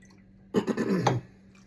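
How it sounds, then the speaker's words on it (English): A brief, close pour of vinegar into a jar of pickled onions, a short liquid gurgle and splash lasting about half a second before it stops. "Fill them up with the vinegar right to the top."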